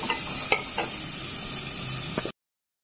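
Onions fry in oil for chicken curry, a dense, loud, close sizzle with a couple of sharp clinks from a utensil, running steadily without speech before cutting off abruptly.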